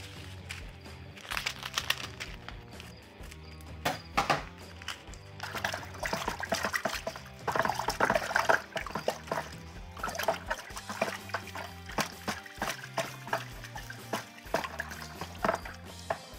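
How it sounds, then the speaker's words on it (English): Bentonite stirred into about four litres of water in a wine fermenter, with irregular sloshing, swirling and clinking of the stirrer against the vessel, close and fairly loud. "And we will stir in the bentonite."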